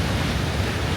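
Waterfalls rush in nature with a dense, steady roar of broadband noise that carries on without a break, loud and close, with no voices.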